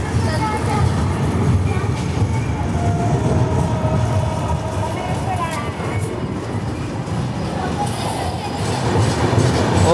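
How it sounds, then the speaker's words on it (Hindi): The Ajanta Express runs steadily after leaving Parbhani Junction, heard from inside as a loud, continuous rumble and rattle of the moving carriages, with a voice talking over it. "शेड्यूल हॉल्ट के बाद हमारी ट्रेन निकल चुकी है परभनी जंक्शन से"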